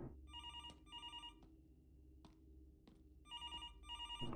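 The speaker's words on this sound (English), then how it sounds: "That's a loud phone" A loud telephone at a motel night reception desk rings in repeated electronic bursts, a pair of rings, a pause, then two more pairs, with faint voices in the room.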